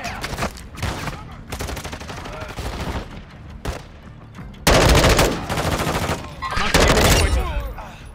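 Bursts of automatic gunfire and rapid shots in a military video game, dense and loud throughout, with louder volleys near the end and radio-style voices talking over parts of it.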